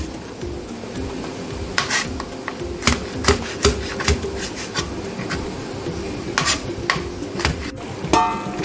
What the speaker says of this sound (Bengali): টমেটোগুলোকে একদম ফাইন করে চপ করে নেব